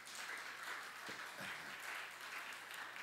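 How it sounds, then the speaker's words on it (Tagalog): Congregation applauding at a church men's and women's convention, a steady wash of hand claps held at a fairly even level throughout, with no voices standing out. "Sige, lakasan naman natin ang palakpak."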